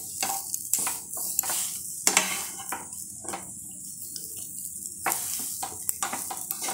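A spiced mixture for a fishless, village-style macher kaliya is stir-fried in a wok, with close, irregular scraping and stirring bursts over a steady sizzle.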